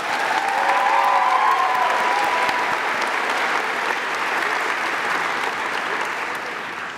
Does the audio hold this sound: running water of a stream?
no